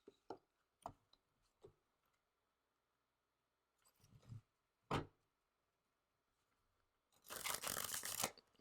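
Cards being handled and shuffled: several sharp taps and flicks spaced apart, then a longer riffling burst near the end, close and quiet between.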